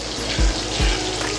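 Onions hit a hot pan as the base of a Thai-style sauce for whole red snapper, a close steady sizzle with two soft low thumps as pieces are added.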